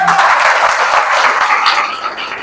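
A church congregation applauds together in a steady, dense wash of clapping that fills the room for a couple of seconds, loud and continuous with no talk over it.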